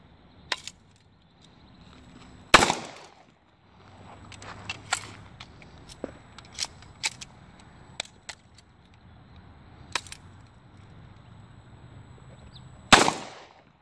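Inexpensive MacSaw firearm fired single shots during a test, two sharp loud reports about ten seconds apart, with smaller metallic clicks and handling noises between them; no talking.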